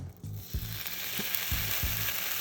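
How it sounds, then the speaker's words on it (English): Bacon sizzles and crackles steadily in a frying pan, with a few soft low clunks underneath. "We want the sizzle, okay?"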